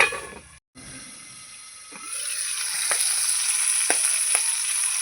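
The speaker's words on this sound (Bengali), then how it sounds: "সব মাছগুলো দিয়ে দিলাম আবার ঢেকে ভেজে নেব" Fish fry in hot oil in a covered wok, a bright continuous sizzle that swells after a brief cut, with a few sharper spits and crackles standing out near the pan.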